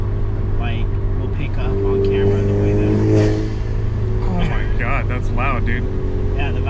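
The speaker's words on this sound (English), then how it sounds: "Yeah, the valve exhaust is nice" Alfa Romeo Giulia Quadrifoglio with a valved exhaust, a steady, throaty engine drone that runs continuously beneath people talking.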